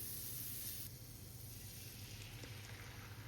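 A knob of butter sizzling in a frying pan before an egg goes in, a soft, steady hiss close by but faint, with no talk.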